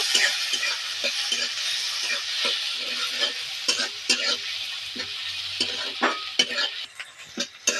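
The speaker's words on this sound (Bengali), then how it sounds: "তেলের উপরে হিং দেবো পাঁচফোড়ন দেবো কুচিয়ে রাখা পেঁয়াজ নেড়ে দেবো একটু" Chopped onion stirred in hot mustard oil with asafoetida and panch phoron, a steady close sizzle broken by repeated scraping and clinking strokes of a spatula against the pan, with no talk.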